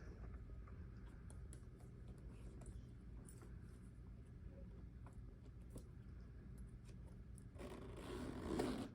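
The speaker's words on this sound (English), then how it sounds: "And then you can still zip it." A zipper drawn along a Portland Leather Goods leather bag, a quiet scraping run that swells to a louder rasp near the end over faint room noise.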